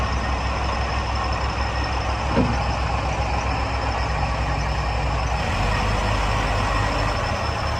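Diesel engine of a 2002 Case 580M backhoe loader running steadily outdoors in a salt and sand yard: a constant loud, rumbling idle with one brief knock, alone with no talking.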